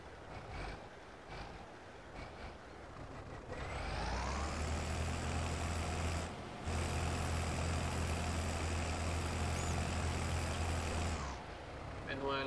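A Belarus tractor with a V6 engine idling in Farming Simulator 22, a steady low rumbling drone with a whining tone that starts a few seconds in and runs continuously, close and fairly faint.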